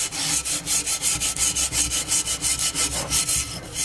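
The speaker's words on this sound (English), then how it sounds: "May not even be necessary to sand it, but I do" Sanding the frame of a JBL 2226H 15-inch professional woofer by hand, following its contour: a steady run of rhythmic back-and-forth abrasive strokes, close and fairly loud, about four or five per second, with no talking.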